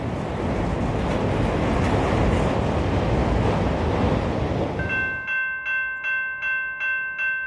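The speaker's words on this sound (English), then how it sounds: "This train, with auto racks leading a block of containers, looks like it's traffic for the FEC." A CSX freight train with auto racks leading a block of containers rolls past at close range, a loud steady rumble with wind buffeting the microphone, ending in a run of evenly spaced clicks as wheels cross a rail joint.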